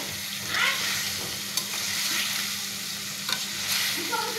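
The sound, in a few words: stirring and frying hilsa fish in spice paste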